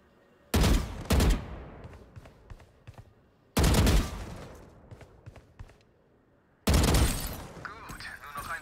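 Bursts of gunfire aimed at practice bots in Valorant on PS5, three separate loud volleys spaced a few seconds apart, each a sharp crack that rings out and fades, with quieter single shots between them.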